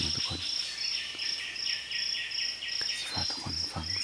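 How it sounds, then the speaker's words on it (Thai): Morning in a rural Lao forest fills with dense, pulsing insect chirping close by, with a few faint bird calls mixed in and no one talking. "ฝากทุกคนฟังเสียงนกเสียงหนูเสียงกระหอกกระแตนะทุกคนตามที่ทุกคนได้ยินนะ"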